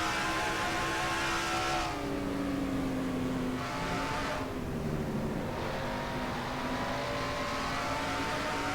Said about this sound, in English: On board Trent Dunham's car.